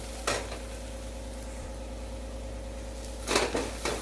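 Onion and ground masala paste sauté in a pan with a soft, steady sizzle over a low hum, while a few brief stirring scrapes and clatters come near the start and the end.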